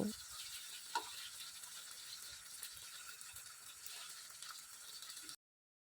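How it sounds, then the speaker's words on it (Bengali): Salmon coated in barbecue sauce sizzles steadily in a frying pan, a continuous even crackle with a brief clatter near the start and no talking, ending abruptly. "আবার উল্টিয়ে দেব উল্টিয়ে দিয়ে আরও কিছুক্ষণ ভাজতে দেব"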